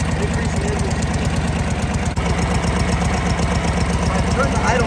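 Harley-Davidson Knucklehead motorcycle engine running steadily with a rapid, even low-frequency thump, close and loud, its speed rising as the carburetor mixture is leaned out.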